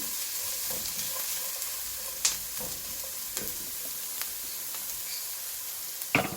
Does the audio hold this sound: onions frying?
yes